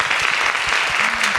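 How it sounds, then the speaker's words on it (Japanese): Audience applause welcoming the author of a dramatic reading onto the stage at an anime event in Tokyo, a dense, steady wash of clapping from a crowd, loud and close, with no speech over it. "拍手でお迎えください"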